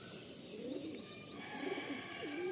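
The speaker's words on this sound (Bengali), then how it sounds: "এই যে আলিম, তোমাদের আমি এক জোড়া ফুলশিরা পায়রা দেখাচ্ছি," A pair of Fulshira pigeons in a loft coo softly and faintly, with a few quiet warbling calls and faint chirps over a low background hum.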